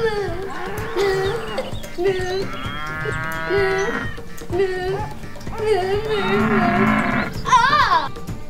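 A cartoonish cow moo, part of a playful move called the cow technique in a kids' magical adventure series, sounds amid excited shouting voices and lively background music, with several drawn-out mooing calls rising and falling.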